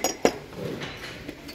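Stemmed drinking glasses clinking as they are handled on a shop shelf in a home-goods store, with one sharp clink near the start and softer glassy knocks after, fairly close, with no talk.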